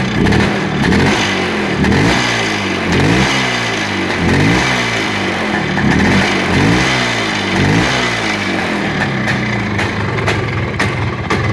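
A motorcycle engine is revved repeatedly as the throttle is blipped, giving a steady series of rising and falling pulses over a constant loud idle, close up, with no talk.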